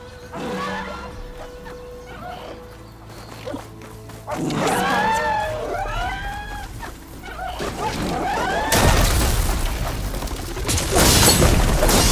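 Explosions set off by tripwires in Horizon Forbidden West: booming blasts mixed with mechanical creature cries and whooshing sweeps, building to loud, dense bursts near the end.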